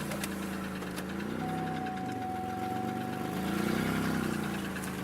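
A 2002 Chevy Malibu engine runs steadily with a low, even hum and a faint mechanical knock, holding a constant level throughout with no talking.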